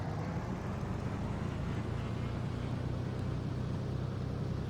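Cessna 188 AgTruck piston engine held at 1700 rpm in the X-Plane 11 flight simulator, a steady, loud, low droning rumble with no change in pitch throughout.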